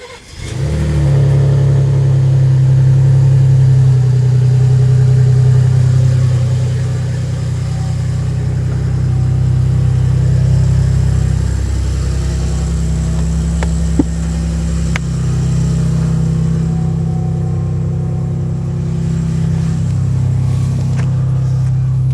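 A Ford Bronco engine with a Corsa catback exhaust rumbles with a deep, loud exhaust drone, holding mostly steady with small shifts in revs, close up and without talk.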